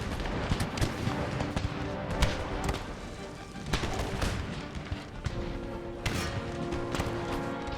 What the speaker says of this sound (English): Cannons to blast this lot